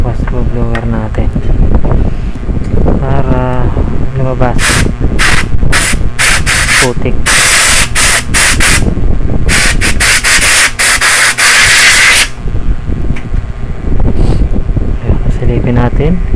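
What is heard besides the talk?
air blower blowing dirt off graphics card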